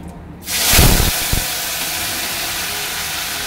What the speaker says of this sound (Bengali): এবার আমি এতে দেব লোটে মাছগুলো, ম্যারিনেট করে রাখা লোটে মাছ।